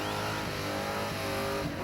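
A car doing a tyre-smoking burnout in a burnout elimination event, a continuous loud roar of a revving engine and spinning tyres, sustained and dense without pause.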